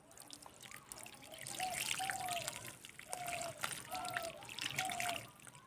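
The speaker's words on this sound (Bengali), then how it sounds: "এরপর আমি জল দিয়ে দেবো কিছুটা।" Water is poured onto a freshly planted pumpkin seedling in garden soil, a soft trickling and splashing that comes in short bursts close by, quiet overall.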